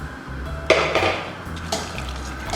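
A spoon stirring curried coconut rice with coconut milk and blended crayfish in a pot, producing metallic scrapes and clanks against the pot over a steady background hum.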